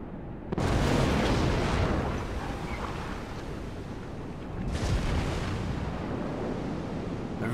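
Battleship shell salvo explosions in World of Warships, a sudden loud blast followed by rumbling roar, then a second heavy impact burst a few seconds later, dense and booming with no talking.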